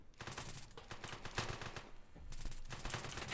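Bursts of rapid gunfire in a video game, shots punched through walls at close range, dense and continuous with a brief lull before the firing swells again.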